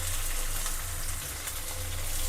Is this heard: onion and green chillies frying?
yes